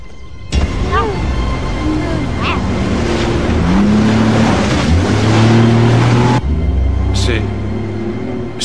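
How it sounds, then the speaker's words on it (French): An engine runs steadily under wind and rushing noise, with a voice talking over it; the roar drops briefly near the end. "C'est un moteur qu'on entend."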